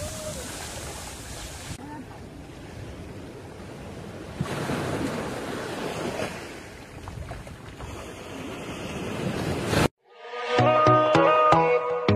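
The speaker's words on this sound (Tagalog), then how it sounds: "Grabe, lakas ng alon." Strong ocean waves surge and crash as surf, loud and close, with gusting wind buffeting the microphone, then an abrupt cut to a different busy sound near the end.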